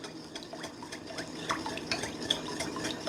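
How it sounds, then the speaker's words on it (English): Vinegar and sugar stirred together in a pot for a sweet and sour sauce, with a spoon scraping and clinking lightly and steadily against the metal at close range. "Now I'm going to stir until the sugar"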